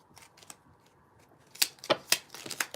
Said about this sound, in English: These little cards are so hard to shuffle